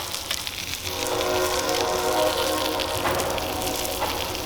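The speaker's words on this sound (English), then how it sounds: "Ah, the train's here." A train rumbles past outdoors with its horn sounding in long sustained tones, loud and fairly close, while a backyard fire burns nearby.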